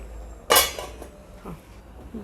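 A metal lid clanks onto a cooking pot of simmering ragda with one loud sharp clatter, followed by a few fainter rattles as it settles.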